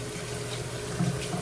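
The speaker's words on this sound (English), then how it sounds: "So right now I'm just wetting the brush, getting a nice hot" Hot water runs steadily from a tap over a shaving brush as it is wetted before a straight razor shave, a close, even hiss of flowing water with slight splashing.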